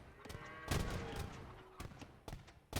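Hand cannons firing in Age of Empires II, a quick run of sharp broadband cracks with loud bursts in close succession, a few separated shots later, over a busy battle bed.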